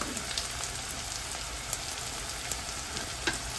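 Gavar phali cluster beans cooking in a pan on a stove at medium-low heat, a steady close sizzle with scattered soft pops and crackles throughout.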